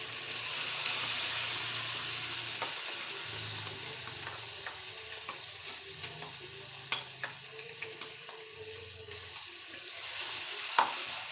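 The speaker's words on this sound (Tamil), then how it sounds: "நல்லா பச்சை மசாலா போகிற வரை இது நல்லா கிளறுங்க" Ground mint and coriander masala is stirred in a hot pan, a continuous close sizzle and hiss with soft scraping and occasional spoon taps against the pan.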